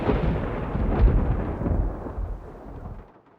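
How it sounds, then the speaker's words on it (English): A deep, rolling thunderclap from a lightning bolt in the Nancy Drew game Legend of the Crystal Skull, loud and close, rumbling heavily before fading out over a few seconds. "Whoa, that bolt of lightning was huge."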